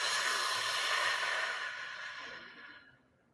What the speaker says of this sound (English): I'm breathing in through my nose and exhaling through my mouth